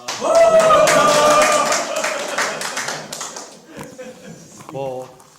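An audience at a Korean seminar talk bursts into loud, dense clapping that holds steady for a couple of seconds, then thins into scattered claps as a voice begins speaking over it.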